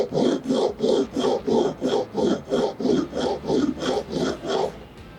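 A chisel bevel held in a jig is pushed across a sharpening stone in about a dozen even, rhythmic rasping strokes, close and clear with no talking.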